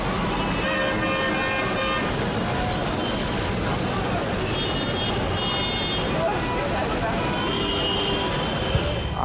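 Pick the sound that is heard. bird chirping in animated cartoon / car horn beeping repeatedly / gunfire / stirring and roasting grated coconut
car horn beeping repeatedly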